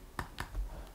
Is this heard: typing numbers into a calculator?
yes